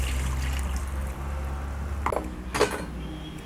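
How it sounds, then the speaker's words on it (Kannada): Water poured into egg kurma simmering in a pan, a short splashing pour with clinks of a utensil against the pan over a steady low hum, close and fairly loud. "ಕುರ್ಮಾಗೆ ಎಷ್ಟು ಬೇಕೋ ಅಷ್ಟು ನೀರು ಹಾಕ್ಕೊಳ್ಳೋಣ"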